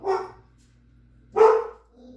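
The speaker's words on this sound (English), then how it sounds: "They do roofing, and that's why Boots is howling" A dog howls and barks indoors, reacting to roofing work nearby: two distinct loud vocal bursts separated by a quiet pause, close to the listener.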